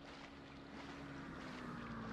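Jet ski engine hum with water rush and wind in the Just Cause video game, a steady faint drone that swells slightly, with no talking.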